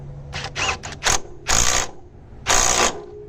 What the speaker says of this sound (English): you keep the bolt stationary and you tighten the nut